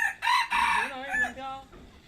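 A rooster crows loudly and close by, a single drawn-out cock-a-doodle-doo with a rising start and a long wavering tail, with no talk over it.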